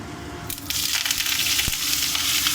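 Mango pieces and curry leaves hitting hot oil in a pan for sweet mango chutney, a sudden loud sizzle that erupts and holds steady, with a brief clatter in the middle.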